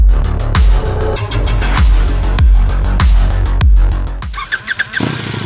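Brabus 1300 R motorcycle revving hard, a loud close engine roar with repeated throttle blips and rising pitch sweeps, ending in a few sharp quick blips before dropping back to idle.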